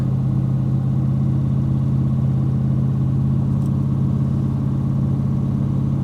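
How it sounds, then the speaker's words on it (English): An old truck engine idles steadily with a deep, even rumble close by, a continuous low drone throughout with no talking. "She'll fire up."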